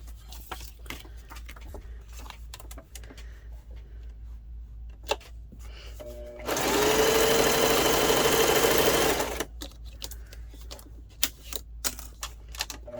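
A sewing machine stitches paper pockets with black thread, giving a loud, steady whirring run of about three seconds that stands out from quieter handling clicks and taps before and after.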